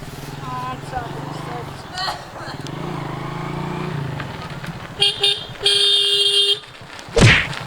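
A motorcycle approaches on a village road, its engine rising and its horn honking in a couple of short blasts, while people talk loudly over it nearby.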